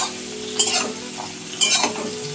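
Onion and tomato frying in a pan for a mutton keema and young jackfruit dish: a steady close sizzle broken by two brief scraping stirs of a spatula.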